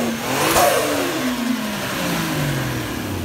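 A Toyota Chaser TRD engine revs up and pulls away, its pitch climbing through gears as it passes nearby, loud and throaty with no voices.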